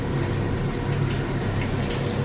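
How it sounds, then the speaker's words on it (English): Tap water runs steadily and close by as dyed pink hair is rinsed out at home, a continuous hissing splash with no talk over it. "So Becca's in the process of rinsing her hair out."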